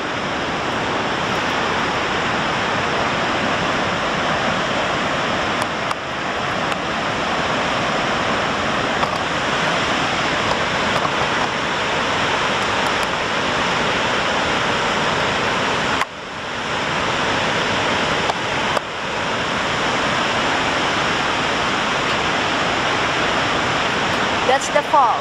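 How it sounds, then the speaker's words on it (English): Niagara Falls on the USA side roars as a loud, steady broadband rush of falling water that never lets up, with a voice talking faintly beneath the din. "That's the falls over there behind me, Niagara Falls, USA, behind me"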